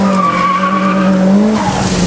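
A Mitsubishi Evo 8 tuned with an ATP GT35 turbo launching in a drag racing test, the engine held at a high, steady whine with a tonal squeal, loud and close throughout, no voices.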